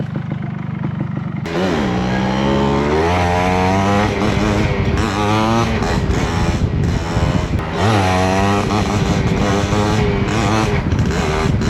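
A Suzuki motorcycle engine revs hard and climbs through gears on a straight road, its pitch rising repeatedly in loud, close sweeps with brief drops between shifts.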